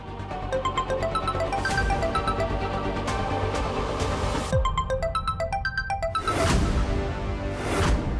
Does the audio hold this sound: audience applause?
no